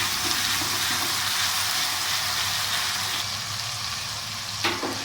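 Masala paste fries in a pan with a loud, continuous sizzle close by as it is stirred, easing slightly near the end, where a single utensil knock stands out.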